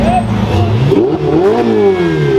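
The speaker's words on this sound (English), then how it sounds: "that's two revving SVs in one day" A Ferrari SV supercar revs hard, its engine note rising and falling in a sweeping, continuous roar; people talk loudly over the sound throughout.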